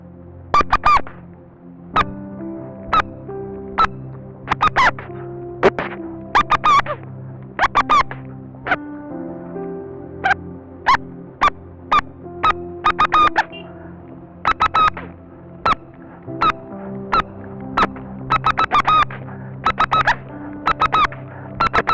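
A man whistles an imitation of the lapwing's (tikkatita) call: repeated sharp, shrill squeaky bursts in rapid clusters over a steady low hum, loud and close, with no talking.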